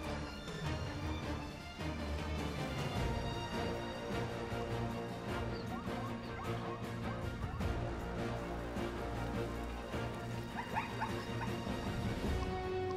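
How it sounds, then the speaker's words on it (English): Dogs or hyenas bark and whimper in the video game Jagged Alliance 3 at a wild dog camp, repeated yips and barks scattered over a steady game soundtrack, moderately faint. "Oh, and they release the dogs, or whatever they are, hyenas."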